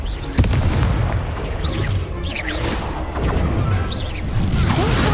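Spell blasts from a Hogwarts Legacy wizard duel boom and crash loudly one after another, a dense run of explosive impacts with no pause.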